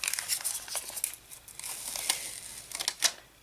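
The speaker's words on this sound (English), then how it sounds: "I'm going to peel the cellophane off." Cellophane backing is peeled off adhesive-coated pattern paper for a card, giving close crinkling and tearing rustles in irregular bursts, loudest near the end, with no talk.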